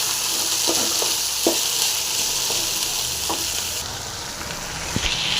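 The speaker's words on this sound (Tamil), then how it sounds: "புதினா கருவேப்பிலை கொத்தமல்லி அதையும் போட்டு நல்லா ஃப்ரை பண்ணிக்கலாம்" Curry leaves, mint and coriander fry in a pan with a constant loud sizzle. A spatula stirs and scrapes now and then throughout.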